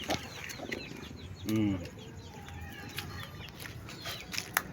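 A hen with newly hatched chicks gives soft clucks and one louder, drawn-out call in a farmyard, with faint chirps and rustling around it and a voice speaking quietly at times.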